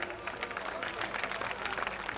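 An audience at a Hindi comic poetry gathering (hasya kavi sammelan) in Rajnandgaon, 2024, applauds with a dense, even burst of clapping from many hands, fairly distant and continuous throughout.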